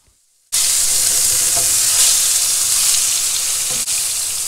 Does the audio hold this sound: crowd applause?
no